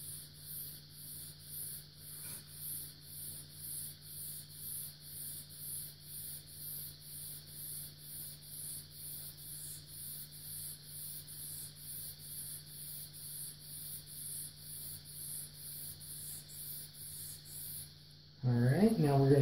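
A vintage straight razor is drawn in rhythmic laps with pressure across a 3000 grit honing stone, each stroke a soft, faint scrape repeating steadily over a low background hum, with a louder knock near the end.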